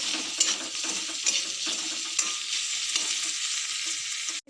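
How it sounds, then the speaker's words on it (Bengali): Chopped ginger sizzles briskly in hot oil in a pan, a close, steady frying hiss broken by a few light stirring scrapes and clicks. "আদা কুচি ভালো করে এটা ভেজে নেব ভালো করেই ভাজবো"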